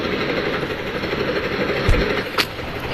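Rumbling clatter of a passing train in the video game Indian Bikes 3D, a steady rolling noise with a couple of sharp knocks near the end.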